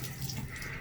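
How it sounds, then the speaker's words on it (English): Water runs steadily from a bathtub shower being turned on, a continuous faint hiss and splash without talk. "you can see when I turn the water on here"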